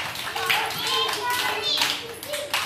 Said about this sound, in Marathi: शाबास, टाळ्या वाजवा सगळ्यांनी